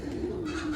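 A pigeon of an old breed coos in a steady low warble, close and continuous, with no other sounds over it.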